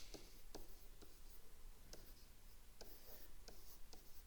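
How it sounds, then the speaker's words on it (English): Pen or pencil writing out notes for a trigonometry problem, a steady scratchy scrawl with short tapping strokes as the tip lifts and lands, close and quiet. "I'll just write this down below"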